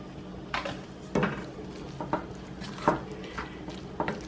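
Cheese powder from a Kraft macaroni and cheese packet being stirred into the noodles in a pot, with a series of spoon scrapes and knocks against the pot at an uneven pace, close and fairly quiet.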